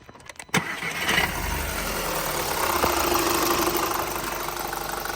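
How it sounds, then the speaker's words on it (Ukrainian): A 2007 Skoda Octavia with a 2.0 petrol engine cranks briefly, fires up and settles into a smooth, steady idle heard close and at moderate loudness. "Так працює двигун."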